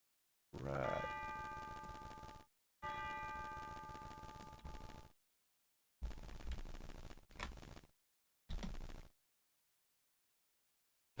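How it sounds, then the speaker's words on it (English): A synthesized bell pitched in D inside a music composition, struck in several separate notes: two long ringing tones followed by shorter chimes, each cut off cleanly with silence between, bright and clear with no voices. "I'm gonna put the bell in D."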